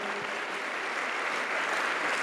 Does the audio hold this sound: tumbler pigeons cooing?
no